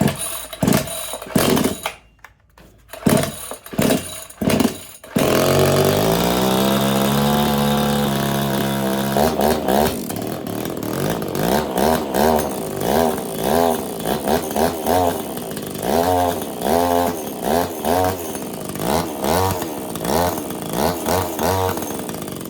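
A Craftsman S205 chainsaw is pulled several times with short bursts, then fires and runs, its small two-stroke engine idling and revving in repeated rising-and-falling surges, close and loud.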